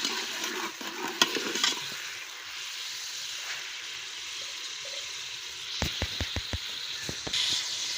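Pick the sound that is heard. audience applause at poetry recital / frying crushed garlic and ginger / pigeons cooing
frying crushed garlic and ginger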